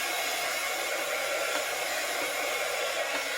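A hair dryer blows over wet coffee soaked into a blank journal page, a loud, steady rushing whoosh held close and unbroken throughout.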